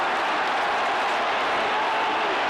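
A capacity stadium crowd roars ahead of an Australian football grand final, a broad continuous wash of distant cheering and noise with no single voice standing out.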